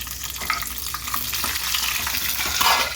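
Green chillies crackle and sizzle in hot oil in a pan with urad dal and whole spices, a steady close frying hiss with no talk.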